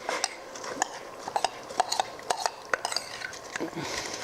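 Rinsed quinoa going into a pot of boiling water on a kitchen stove, heard as close, scattered metallic clinks and taps against the pot with a light rustle of grains in between.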